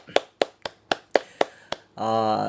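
Audience clapping in unison at a church lecture, about seven sharp, evenly spaced claps, followed by a short sustained tone.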